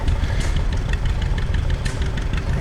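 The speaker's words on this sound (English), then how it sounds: "This is a old working tractor right here." An old working tractor engine runs at a tractor show, a steady close, loud low chugging idle with a fast knocking rhythm and no talk.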